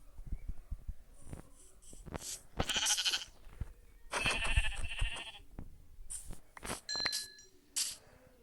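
Several sheep bleats in a video game, some overlapping, scattered across the clip with short gaps and faint clicks and background noise between them.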